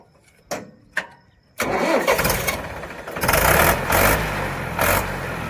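A tractor engine at a pomegranate farm cranks with two short bursts, then catches and roars into a loud, steady run with a couple of revs, close by.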